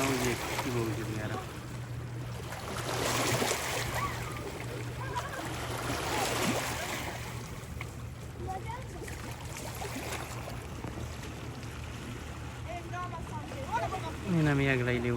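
Waves from a passing ship wash and splash steadily against the shore at sea, a continuous rushing water noise with low engine hum, under faint distant voices.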